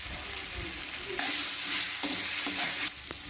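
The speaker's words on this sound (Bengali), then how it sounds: "মশলাগুলো ভালো করে কষিয়ে নিচ্ছি।" Spices with turmeric, salt, Kashmiri chili powder and meat masala frying in a pan for yogurt chicken, a steady close sizzle broken by several scraping stirs of a spoon.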